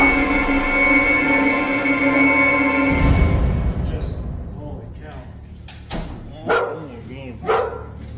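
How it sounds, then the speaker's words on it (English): A dog barks in a few short, separate bursts toward the end, after a steady hum and a dull thud, with muffled voices nearby. "Win's dog Charlie can be heard barking at something."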